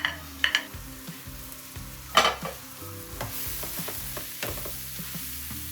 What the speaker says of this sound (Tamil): இனி வந்து நான் முள் எடுத்து வச்ச மீட்டில் இதில் நான் போட்டு நல்லா மிக்ஸ் பண்ண போகிறேன்